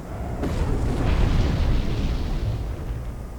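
A heavy mech landing in Armored Core, a deep booming impact that swells into a sustained low rumble, loud and close, with no voices.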